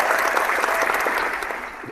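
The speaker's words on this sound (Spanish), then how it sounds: "Gracias por los aplausos." Audience applause at the close of a talk, a dense, steady wash of clapping from a crowd that holds strong for the whole two seconds and fades only slightly at the end.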